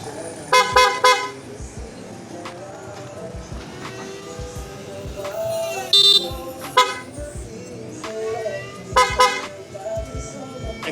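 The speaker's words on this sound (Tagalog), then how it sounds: "Kasi ito yung busina niya." Short bursts of a motorcycle horn, a Senlo X1 on a Honda ADV160, honk several times, loud and close, with quieter mechanical noise and background sounds between the blasts.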